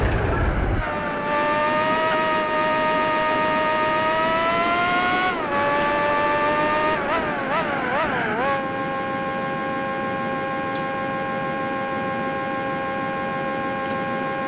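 A race car in Gran Turismo 4 dives into the pits: a steady, loud engine whine that rises, falls sharply as the car brakes and shifts down through several quick gear changes, then settles into an even, lower drone for the rest.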